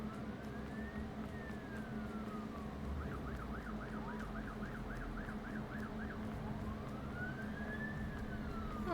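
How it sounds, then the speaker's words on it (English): Wailing emergency sirens in the Hogwarts video game, with long rising and falling sweeps and a quick yelping stretch in the middle, steady and moderately loud over a constant background hum, with no talking. "Sirens."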